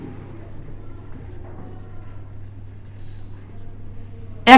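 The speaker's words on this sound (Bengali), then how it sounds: "আমরা এই জায়গায় লিখব" Pen writing on paper during an accounting lesson, a soft continuous scratching held low under a steady hum, with a sharp brief knock at the very end.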